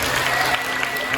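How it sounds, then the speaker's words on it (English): Audience clapping at a high school stage hypnosis show, a brief dense burst of applause from the crowd that holds steady for about a second. "give them a big round of applause"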